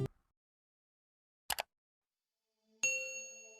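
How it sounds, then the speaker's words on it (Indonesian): A notification bell rings as a clear bright ding with a ringing tail at the end, after two short soft clicks separated by silence. "membunyikan lonceng notifikasi"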